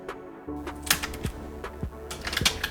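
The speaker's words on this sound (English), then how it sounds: "So let's peel off the wrapper." Plastic wrap is peeled off a new matte black iPhone 7 in short crackly, crinkling bursts, close by and fairly quiet, with no one talking.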